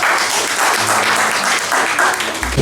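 Audience at a NeoLife International entrepreneur event bursts into loud, sustained applause, dense clapping filling the room throughout.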